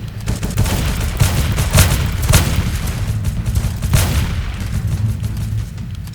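Gunfire in the Roblox heist game Deadly Heist, a dense run of overlapping shots and booming bursts over a constant low rumble, loud and sustained throughout.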